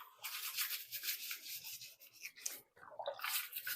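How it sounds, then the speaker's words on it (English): Pieces of goat milking equipment scrubbed clean with a brush, a continuous close bristly scrubbing with brief pauses, alone without talk. "So now I'm just going to go ahead and clean all of these pieces. Get in there and scrub really well."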